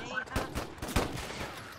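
Gunfire in a video game: a rapid string of several quiet, sharp shots cracking in uneven succession, heard faintly and close together.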